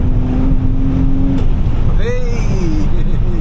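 Big-turbo 530 hp BMW sleeper pulling hard in fourth gear, a loud, close, steady engine drone heard from inside with a rising whine toward the end; a voice speaks over the engine.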